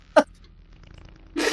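Brief, flatulent-sounding comic effects from the video game VA-11 Hall-A, one short burst followed by a longer, louder buzzy blast near the end, with no talk over them.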